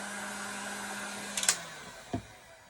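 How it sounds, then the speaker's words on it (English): A hair dryer blowing to dry paint hums steadily at close range and then winds down, with a couple of sharp clicks and a knock near the end. "you can just use your hair dryer if you want to help your paint dry"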